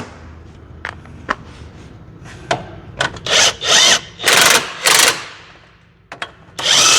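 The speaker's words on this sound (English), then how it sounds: "So we're going to zip it in with the gun." An impact gun drives in a bolt during strut work on a car, firing several short rattling hammering bursts, loud and close, separated by pauses, with scattered clicks and knocks of tools in between.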